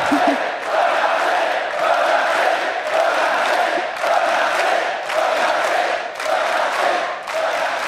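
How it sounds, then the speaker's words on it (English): Arena crowd at an esports quarterfinal cheering and roaring loudly and continuously after a Fnatic versus EDG game, with a dense wall of voices swelling and dipping in waves and no speech standing out. "Cheering will go on and well-deserved."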